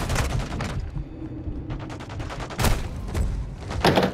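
Rapid bursts of heavy gunfire and booming blasts from a tank in a Call of Duty: Modern Warfare II battle, loud and close, in dense overlapping volleys.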